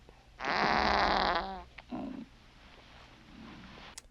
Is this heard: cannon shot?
no